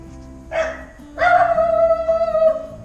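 A dog near a front deck howls in two long rising wails, the second sustained and wavering, loud and close with no talking.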